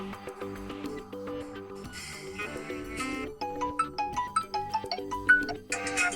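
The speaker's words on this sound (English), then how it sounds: "You can select one of those ringtones" A bright electronic Xiaomi Mi 9 SE phone ringtone plays a bouncy melody of tones and chimes, continuous and clear with no voices.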